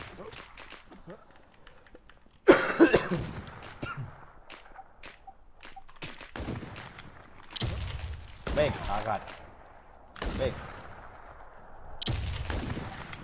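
Machine gun fire in a jungle zombie shooter game: several loud, sustained bursts of rapid shots with quieter gaps between them, plus a voice talking.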